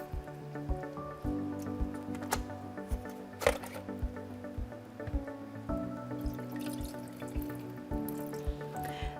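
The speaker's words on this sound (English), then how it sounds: "Simply hold it under running water and rinse it out." A fine dust filter from a Miele Blizzard CX1 bagless vacuum cleaner is rinsed under a running tap, giving soft water splashes, drips and squishy wet handling sounds at close range, with no talking.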